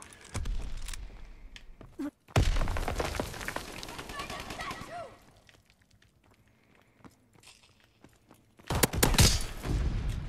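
Bursts of shotgun fire and combat noise from the video game Call of Duty WW2 come in loud clusters near the start, middle and end, with a player talking between them.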